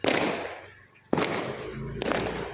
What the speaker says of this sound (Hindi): धूम धड़ाकों की आवाज़, आतिशबाजी की आवाज़